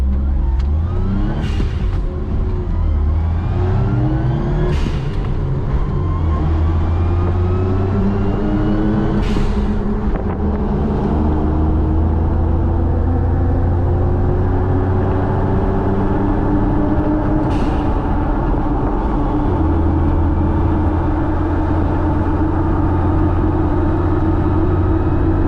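A small 1990 Suzuki Jimny drives along with a steady, loud engine drone and road noise. The engine revs rise and fall through shifts, with occasional clicks and thumps from the cabin.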